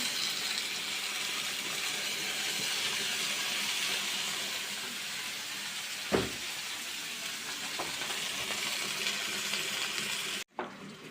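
Oil sizzling in a hot pan on a home stove, a steady bright frying hiss held throughout, with a clunk of utensil or pan partway and a brief break near the end.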